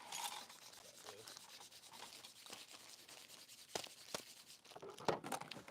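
Soft, steady scratching of hand sanding on a Ghostbusters prop build, with repeated back-and-forth strokes rubbing a surface at close range, faint and continuous.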